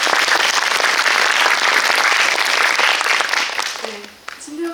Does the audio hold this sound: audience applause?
yes